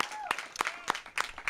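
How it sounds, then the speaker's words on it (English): Scattered clapping from a small crowd, uneven and fairly close, with murmuring voices mixed underneath. "let's give everybody a round of applause"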